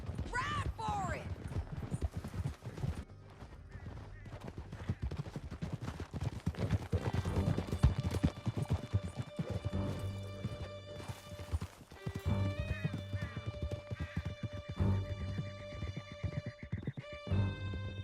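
Horses galloping in the game Red Dead Redemption 2 during a ride out of a canyon, with steady rapid hoofbeats and a whinny, heard near and loud under shouted talk and music.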